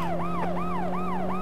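A police car siren in the video game World's Scariest Police Chases wails loudly and continuously, with its pitch sweeping up and down in a fast, repeating cycle about three times a second.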